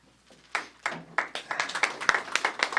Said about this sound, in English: Thanks, Bill, for leading that thunderous applause.